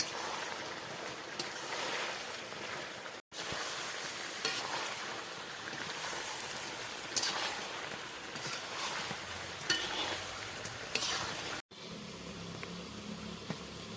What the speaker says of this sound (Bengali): জল না দিয়ে মা কিন্তু একদম ভালো করে কষা কষা রান্না করছে।